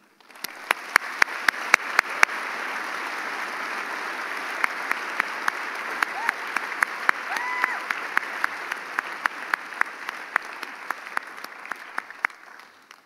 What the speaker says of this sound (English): We would also ask that the audience applaud for each graduate